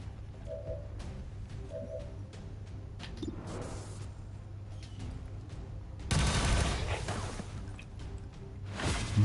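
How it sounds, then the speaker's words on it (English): Magnetic weapons firing in the XCOM 2 video game, several sharp shots and bursts over a low ambient hum, with a louder volley near the end. "Mag weapons make such good noises."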